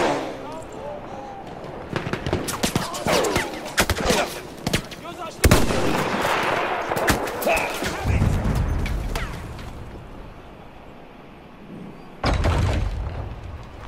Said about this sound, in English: he is firing from very far away